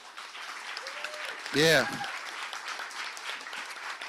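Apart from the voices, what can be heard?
audience applause at live seminar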